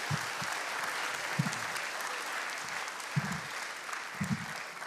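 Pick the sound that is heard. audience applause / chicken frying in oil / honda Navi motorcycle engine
audience applause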